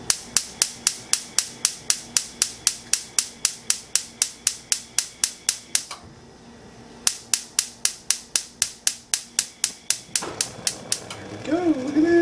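A gas cooktop burner igniter clicks in a fast, steady run of sharp snaps, pauses for about a second, resumes, then stops as the burner lights; a voice speaks briefly near the end.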